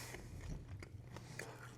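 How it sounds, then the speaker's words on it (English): Crunching bites into a crispy smoked chicken wing fried in beef tallow, with several sharp crackly snaps over a low, steady chewing background at close range. "these have crunch of like a fried wing that wasn't smoked"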